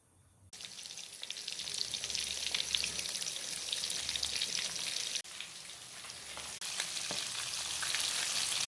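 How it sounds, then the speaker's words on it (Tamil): Marinated fish sizzles steadily in hot oil, a dense, loud crackle that rises as the pieces go in and carries on with no talk. "ஃபிஷ்ஷு ஃப்ரைக்கு ரெடியாக இருக்குது. மேக்கப் போட்டு வச்சாச்சு, இனிமேல் பொரிச்சு தான் வேண்டியது தான்."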